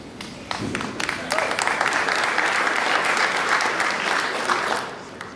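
Audience at a US Open nine-ball semifinal breaking into sustained applause, rising quickly and holding steady before tapering off, with a voice speaking over it.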